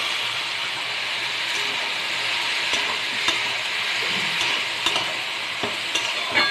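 Taro stalks stir-fried in a pan, seasoned with salt and turmeric for a prawn dish, giving a steady close sizzle and frying hiss throughout with occasional clicks of a spatula scraping the pan, no voices.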